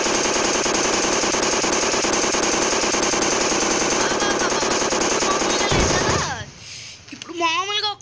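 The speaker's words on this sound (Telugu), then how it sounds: "కొత్త వెపన్ యాడ్ చేశారు. అదే మిషన్ గన్." Rapid machine-gun fire from the Indian Bikes Driving 3D mobile game, a loud continuous rattling burst that runs for about six seconds and then cuts off abruptly, leaving quieter game sounds.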